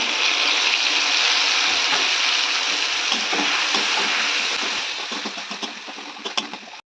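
Mustard paste ground with white mustard, green chilli and turmeric, thinned with a little water, frying in a pan: a bright, steady close sizzle that thins into scattered spits and crackles before cutting off.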